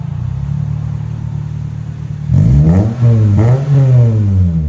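A 2005 Toyota Corolla XRS with a 1.8-litre engine, six-speed and Megan Racing exhaust idles with a deep steady drone, then revs loudly twice in quick rising and falling blips close by.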